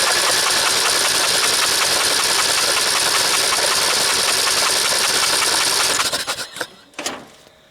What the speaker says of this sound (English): Well, I put in another old battery and see if it'll turn over.